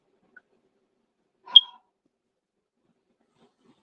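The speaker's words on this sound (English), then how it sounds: "I think it's the smoke detector." A single short electronic chirp from a household smoke detector, heard once and then followed by quiet, with no talking around it.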